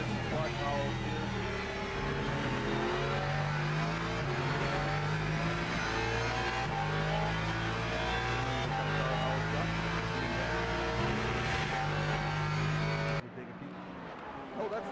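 Lexus GT3 race car engine in the Le Mans Ultimate racing game at the Algarve circuit, Portugal: a loud, steady engine roar rising and falling through gear changes, with race commentary talking over it until it suddenly cuts off near the end.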